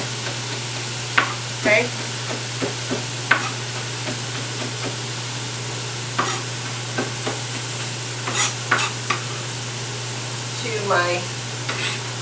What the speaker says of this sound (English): in my grapeseed oil. Then I'm going to add some chopped purslane to it.